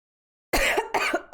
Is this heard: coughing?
yes